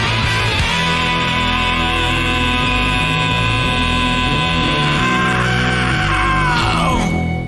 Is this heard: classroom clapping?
no